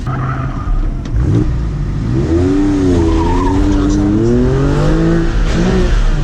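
Audi S3 with new suspension mods accelerating hard on an autocross course, engine note rising and falling steadily through the gears with a brief tire squeal, loud and close throughout the run.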